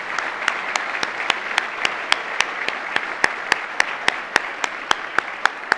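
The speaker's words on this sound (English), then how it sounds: "How about a round of applause and welcome to Growing Global." An indoor audience at a trade mission event applauds steadily, a dense, even patter of many hands clapping at close range, with a few sharper individual claps standing out throughout.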